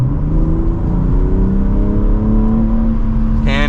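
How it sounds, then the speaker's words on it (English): A 2024 BMW M3 Competition accelerates from inside the cabin, its engine note droning loud and close and climbing steadily in pitch as it gains speed over a few seconds. "Let's give it some gas here."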